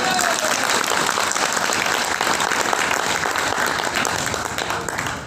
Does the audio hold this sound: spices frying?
no